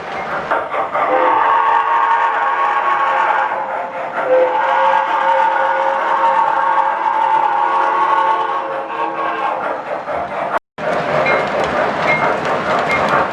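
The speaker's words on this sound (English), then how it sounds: "all my childhood, I always wanted to have a big O-gauge model railroad" An O-gauge model railroad train rumbles along continuously with a rolling, clattering drone and a brief sharp dropout near the end.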